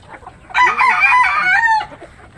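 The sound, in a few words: native chickens, rooster crowing and clucking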